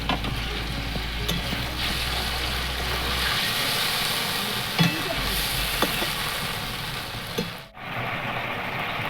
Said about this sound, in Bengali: এবার এর মধ্যে পটলগুলো দিয়ে দিচ্ছি